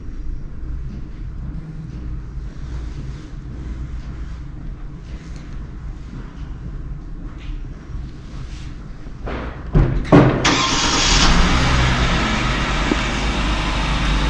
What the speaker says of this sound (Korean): 네, 시동이 바로 켜지고요.